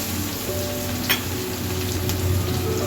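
Onions dropped into hot oil with curry leaves, hing and turmeric, cooking palak paneer: a steady, even hiss of frying with a faint tonal hum beneath and one brief crackle, no voices.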